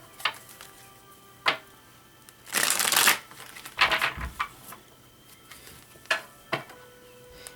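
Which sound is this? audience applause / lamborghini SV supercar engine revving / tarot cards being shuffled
tarot cards being shuffled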